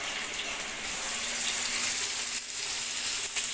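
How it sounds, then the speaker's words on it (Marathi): Chip-cut potatoes, washed clean, frying in oil on a tawa, giving a steady loud broadband sizzle that hisses continuously without pause. "हे बघा मी सगळे बटाटे तव्यावर टाकले आणि बटाटे मी धुवून घेतले स्वच्छ आता आपण याला छान तेलामध्ये असं फ्राय करून घेऊ"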